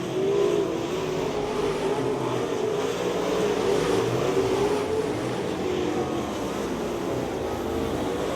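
Race cars running side by side on a speedway track at the Speedzone, a continuous engine drone heard from a distance with a faintly shifting pitch and no break across the stretch.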